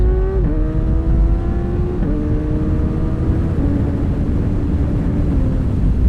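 A motorcycle engine pulls hard and loud, its pitch rising steadily, then dropping sharply at each quickshifter upshift, about four quick gear changes in a row without pause.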